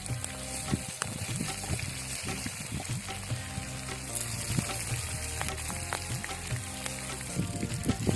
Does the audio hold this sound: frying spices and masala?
yes